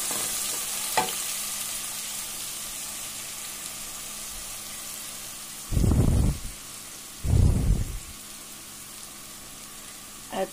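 Spring onions saute with methi leaves in a pan, giving a steady, even sizzle throughout, with two brief, louder rustling bursts from stirring partway through.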